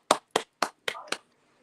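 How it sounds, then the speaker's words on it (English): A handful of single men clap their hands on a talk-show panel, five separate sharp claps spaced about a quarter second apart, close and fairly loud, the last two slightly blurred together before silence. "Single guys, clap your hands"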